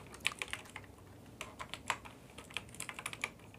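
Quick, uneven keystrokes on a computer keyboard as a search is typed in, light close clicks with short pauses between bursts, no voice over them.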